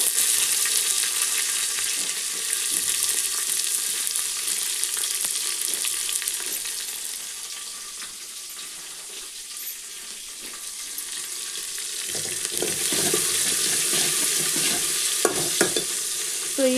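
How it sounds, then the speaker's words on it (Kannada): Onions fry in oil with mustard seeds, cumin, dried chillies and curry leaves: a loud, steady hiss of sizzling that dips slightly midway, then swells again with scraping stirs toward the end. "ಸೊ ಈರುಳ್ಳಿ ಎಲ್ಲ ಚೆನ್ನಾಗಿ ಫ್ರೈ ಆಗೋ ತನಕ ಬಿಟ್ಟು"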